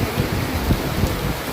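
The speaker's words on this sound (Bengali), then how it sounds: "দেখতে পাচ্ছ কীভাবে বৃষ্টি পড়ছে" Heavy rain pours down in Comilla as a dense, steady hiss with no breaks, close and loud, and a few faint low thumps show under the wash.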